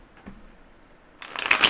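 A deck of affirmation cards is shuffled close to the microphone in a quick riffling burst after a second of near quiet.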